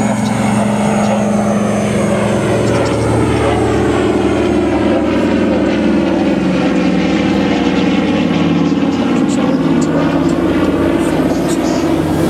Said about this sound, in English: Airplanes accelerating hard all the way through this.